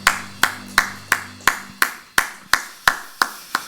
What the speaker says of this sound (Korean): 우리 하나님 앞에 감사와 영광이 큰 박수 올려드리겠습니다